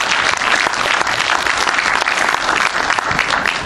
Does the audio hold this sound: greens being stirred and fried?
no